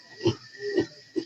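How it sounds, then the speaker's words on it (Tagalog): A pig outdoors on a rainy night grunts three times in quick succession, short nasal oinks close to the microphone with quiet gaps between them. "May baboy din dito."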